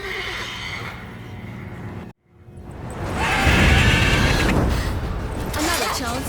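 A horse neighs loudly and close in The Witcher 3: Wild Hunt, a long shrill whinny following a brief silence, with game sounds and voices earlier.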